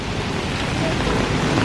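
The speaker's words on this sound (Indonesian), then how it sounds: "Hujan nih" Heavy rain with rumbling thunder, a loud, continuous wash of rainfall with deep low rumble and wind noise filling the whole stretch, no talk heard over it.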